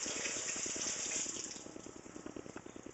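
An apple is rinsed under a running kitchen tap, water splashing steadily into the sink, then the flow breaks into choppy, irregular splatters as the fruit is turned in the stream.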